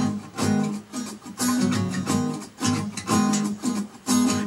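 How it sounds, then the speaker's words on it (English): Guitar strummed in a continuous 16-beat down-up pattern for a Hindi song, steady rhythmic chord strokes with regular accents, loud and close with no voices. "So that's also a 16-beat pattern, except that it follows the continuous down, up movement"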